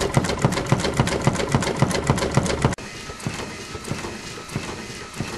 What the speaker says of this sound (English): Here's a good example of how quickly the system can tamp.